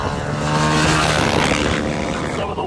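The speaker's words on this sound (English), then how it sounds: "Some of the worst wind I've ever experienced. Absolutely shocking wind." Strong, shocking wind in the Simpson Desert roars continuously and loudly, close to the microphone and buffeting it with a dense rumble, with a steady hum running underneath.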